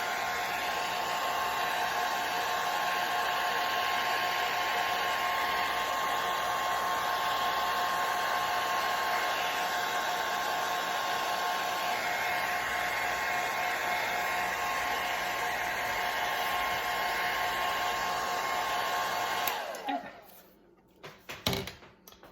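Heat tool blowing hot air over acrylic craft paint on a reversible spring and summer sign, a steady close whooshing hum that runs continuously, then cuts off near the end followed by a few faint knocks.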